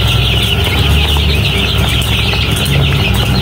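Seven-day-old chicks in a brooder bedded with sand and rice husk chirp densely and continuously. The high-pitched peeping is close and loud, with no talk over it.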